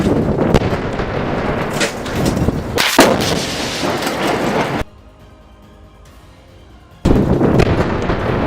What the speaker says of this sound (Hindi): 2 लड़ाके रॉकेट लॉन्चर ले जाकर सामने की एक बिल्डिंग में तैनात आईडीएफ के सैनिकों पर रॉकेट फायर कर देते हैं